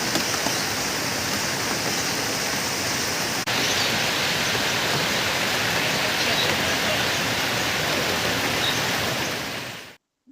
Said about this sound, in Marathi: बाहेरचं वेदर तुम्ही पाहू शकता, खूप असा पाऊस चालू आहे सकाळपासून.